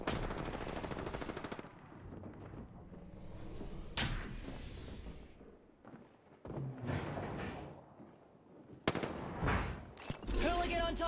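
Video game firefight with bursts of rapid automatic gunfire, loud and close, broken by short pauses and mechanical clacks, with a player's voice in the mix.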